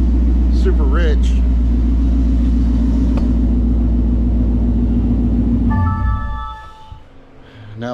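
A Ford S550 Mustang engine idling rich after an IMRC delete, a loud steady low rumble close by that drops away near the end, with a voice heard briefly over it.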